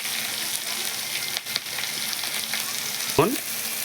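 Dry chili paste hits hot oil and sizzles with a steady, crackling hiss that carries throughout, marked near the end by a short clatter or scrape.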